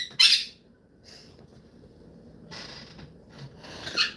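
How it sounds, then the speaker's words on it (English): Outdoor birds squawk in a few short, harsh bursts: one loud near call at the start, then fainter scattered calls, and a louder squawk near the end, with no talk. "I apologize for the birds."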